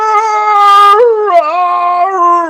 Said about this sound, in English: did she just howl?